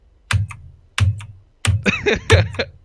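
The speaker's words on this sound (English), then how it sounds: "Listen to my keyboard." Four distinct, close-up clacks of computer keyboard keys, spaced roughly evenly, the last two with a rattling, clicky tail.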